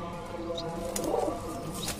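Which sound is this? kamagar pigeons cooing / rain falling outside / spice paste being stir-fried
kamagar pigeons cooing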